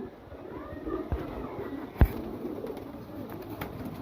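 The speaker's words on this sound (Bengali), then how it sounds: "এটা খাকির কবুতর" A khaki pigeon gives a soft, low coo nearby, with a brief sharp knock and faint rustling against quiet background hiss.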